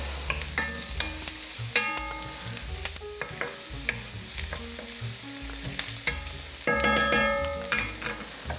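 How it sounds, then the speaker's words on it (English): Steady frying sizzle of onions in butter in a pan with scattered clinks and stirring scrapes, close and continuous, no voices. "These onions are starting to smell great already, especially because they're frying in butter."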